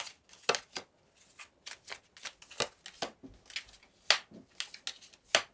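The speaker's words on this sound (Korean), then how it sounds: "이번 주를 잘 보내기 위한 힌트 카드를 2장 뽑아볼게요" Tarot cards are shuffled and drawn by hand, making a run of quick papery riffles and snaps in irregular bursts with short pauses between them. The sound is close and fairly quiet, with no talking.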